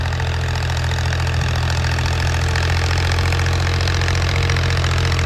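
A tractor engine running steadily on a farm during threshing season, a loud close, even, chugging drone with a low throbbing hum and no talking.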